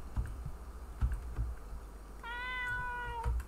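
A house cat lets out one drawn-out meow lasting about a second, close by and clear, while scattered keyboard clicks and taps sound around it in a quiet room.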